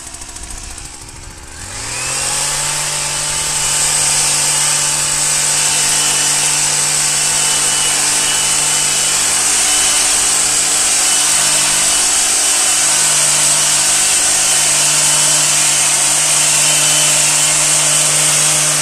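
A hedge trimmer revs up and then runs at a steady, loud, high-pitched buzz while cutting along the bottom of shrubs, close and continuous with no talk.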